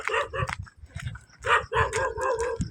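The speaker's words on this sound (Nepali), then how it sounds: "यो चाहिँ देवीथान गाउँ एरिया भन्छ कुकुर भुक्दैछ" A dog in a village area of Devithan barks repeatedly in quick, uneven bursts, fairly close and clear, with a few yelping notes between the barks.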